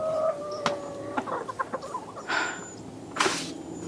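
Chickens cluck and murmur close by in a steady stream of short calls, with a few sharper squawks and brief crow-like cries.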